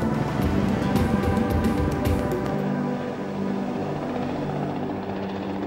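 A helicopter's steady rotor thrum and engine roar, loud and continuous, heard in flight over the Dominican Republic, with a slight shift in tone partway through.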